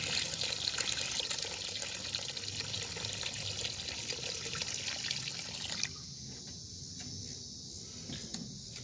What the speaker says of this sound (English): We're going to take our purple power here and go ahead and dump it right on in.